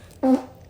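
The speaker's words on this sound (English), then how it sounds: "Gross, it farted." A short, low buzzing fart from an alien character in a video game, a single brief blurt standing alone.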